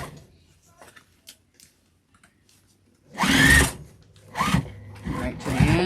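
A sewing machine stitching a beginner's tote bag: faint clicks first, then three loud bursts of fast stitching ending in a back stitch.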